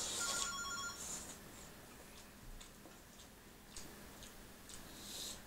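A work phone rings indoors, a bright electronic trill heard in short bursts over a steady background hiss, with a faint ticking between rings and no voices.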